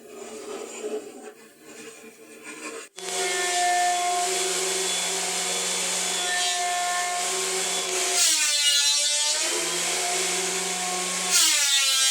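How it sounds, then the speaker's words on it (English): A wood planer thicknesses a scrap-wood clipboard panel, the motor starting abruptly into a loud steady whine with a low hum, its pitch dipping and shifting as boards feed through, close and continuous. "we'll run it through the planer, get it down to its final thickness"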